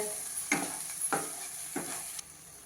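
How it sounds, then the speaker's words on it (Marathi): A spatula scrapes and stirs bell pepper gravy with coriander in a hot pan, giving three distinct sweeping strokes over a soft continuous sizzle, close and fairly quiet, with no talking. "आता हे सगळं आपल्याला परतून घ्यायचं आहे"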